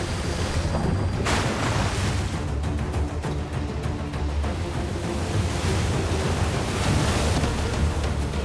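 Open-sea ocean waves near a rip current, a loud continuous roar of surf with wind buffeting the microphone throughout, no voices.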